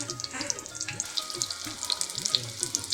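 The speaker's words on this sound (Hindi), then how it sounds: "डीप फ्राई कढ़ाई में करते हैं।" Potato cutlets deep fry in oil in a kadhai, a steady close sizzle with crackling pops and occasional stirring noises, a voice faint beneath.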